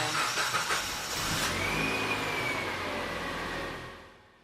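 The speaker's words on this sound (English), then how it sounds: "Starting the engine for the first time will take a little longer." A Mitsubishi Lancer engine cranks and catches on its first start after a fuel filter and fuel pump replacement, revving up loudly before settling and fading out, heard close by with no talking.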